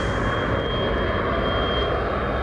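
Ilyushin Il-76 transport aircraft engines roaring in a steady, loud, continuous drone, heard from inside the cabin during a flight for cosmonaut training, with no voices.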